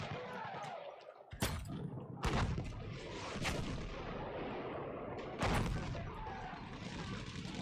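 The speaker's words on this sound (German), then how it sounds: "Ich werfe eine Granate!" Blasts and gunfire in the Battlefield 1 video game, with a grenade going off among sharp, loud booms at intervals over a steady roar of battle.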